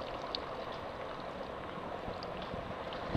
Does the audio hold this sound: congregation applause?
no